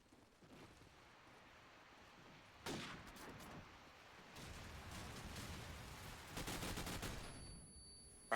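Bursts of gunfire from a Call of Duty 4 match, rapid volleys and sharp shots coming in waves over a low background, with louder clusters toward the end.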